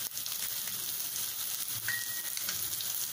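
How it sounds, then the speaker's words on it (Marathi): Homemade goda masala, chili powder and asafoetida fry in a pan for a mixed vegetable bhaji, a soft steady sizzle at low level with a faint brief stir and no talking. "मसाला परतून झालाय व्यवस्थित."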